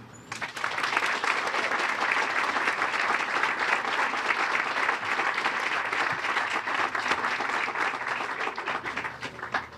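A round of applause from the crowd at a groundbreaking ceremony for a homeless children's center, dense even clapping sustained for about ten seconds at moderate level after a brief quiet start.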